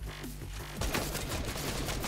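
Gunshots in Fortnite, a quieter stretch broken by a sudden burst of rapid, sharp shots that continues as a busy volley, fairly loud, no talk.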